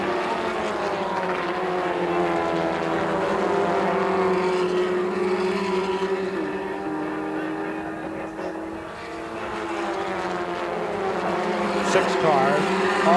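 A tight pack of six 1980 Formula Ford race cars roars down the back straightaway at a national championship race, a loud, continuous engine drone whose rising and falling pitch sweeps steadily past.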